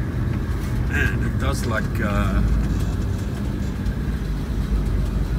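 Nissan Y60 Patrol on the move, its steady low engine and road drone with a rattly cabin, continuous and close, while a person talks over it.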